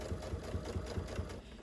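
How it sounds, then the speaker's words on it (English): A sewing machine stitches around the edge of a folded fabric Christmas coaster, its needle thumping in a steady fast rhythm with a low motor hum, close and continuous. "take it to the sewing machine and sew all the way around"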